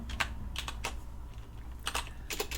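A computer keyboard being typed on at a Linux desktop: a few short, quiet clusters of key clicks separated by brief pauses, with no voice.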